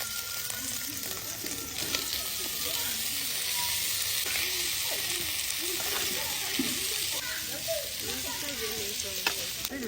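Sausage and onions stir frying in a pan for a Ghanaian briase dish: a steady, close sizzle with bright hiss and scattered crackles runs throughout, and faint talk and occasional stirring clinks sit underneath.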